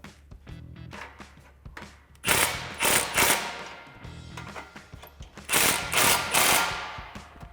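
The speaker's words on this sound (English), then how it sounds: "Now we can go ahead and snug up our clamps using our 15mm socket" A ratchet with a 15mm socket snugs up exhaust clamps on a 2018-2023 Mustang GT cat-back system: several bursts of rapid, close clicking separated by short pauses, with lighter taps between them.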